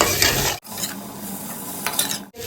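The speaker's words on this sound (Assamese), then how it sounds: "আৰু দিয়াৰ পিছতে এনেকৈ লৰাই দিছোঁ" Okra being stirred in a frying pan over low flame, a steady scraping and sizzling with two brief pauses and a spatula rasp against the metal, close and continuous.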